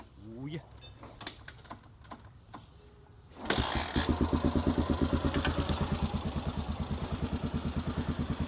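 Light tapping and clicks give way to a Yamaha Ténéré motorcycle engine starting up, then settling into a steady, loud, pulsing idle close by.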